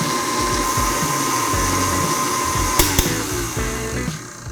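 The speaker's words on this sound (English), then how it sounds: "Now we'll just mix on that medium speed." Electric hand mixer running steadily at medium speed, beating oil and sugar for gluten-free, dairy-free lemon blueberry cupcakes, a loud continuous whir with brief clatters near the end.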